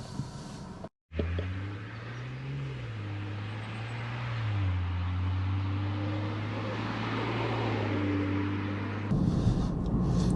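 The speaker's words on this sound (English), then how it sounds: "my initial impression as I trundle carefully through the village is how unbelievably quiet this car is" A BMW M140i Shadow Edition rolls quietly through a village, its engine a low, steady hum with mild tyre and wind noise, after a brief dropout near the start, with no talk.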